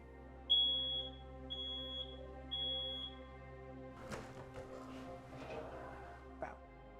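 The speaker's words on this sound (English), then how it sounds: "This is a smoke alarm, and you just simply press it to test it" A household smoke alarm set off with its test button gives a series of five loud, shrill beeps in a steady rhythm, followed by clattering and handling noises with talk.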